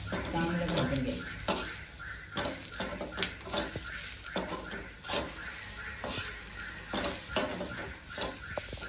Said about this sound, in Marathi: कांदा खोबरं चांगलं भाजून घ्यायचं.